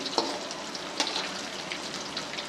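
Chatkara boti meat pieces frying in a pan make a dense, steady sizzle with occasional brighter pops and spatters, heard close and without any talking.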